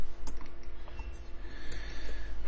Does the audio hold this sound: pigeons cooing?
no